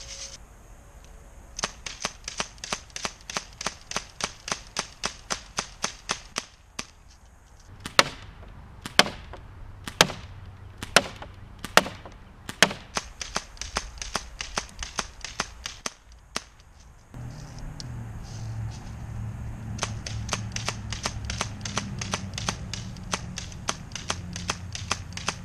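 A Daisy Model 74 BB gun fires in a rapid, steady string of sharp cracks during a shot count test, with a few slower spaced shots midway, then continuing over a louder background hum, close and clear.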